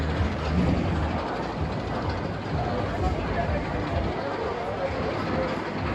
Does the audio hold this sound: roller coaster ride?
yes